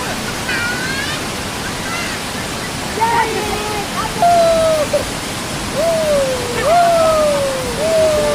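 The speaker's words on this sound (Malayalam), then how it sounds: "അവസാനം ഞാനും ഇറങ്ങി ഈ വെള്ളച്ചാട്ടത്തിലേക്ക്." Battathur waterfall in Kasaragod roars in a steady, dense rush of falling water, with voices calling faintly over the top in the second half.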